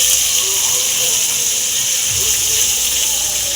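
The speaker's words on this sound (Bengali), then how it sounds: "আমি হালকা লবণ দিচ্ছি, হলুদ দেব না, হালকা লবণ দিয়ে ভেজে নেব" Paneer fries in oil in a pan with a little salt, giving a steady, loud sizzling hiss that carries on evenly throughout with no break.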